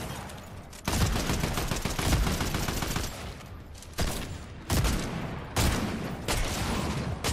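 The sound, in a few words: gunfire fighting the Cerberus boss in Fortnite, a video game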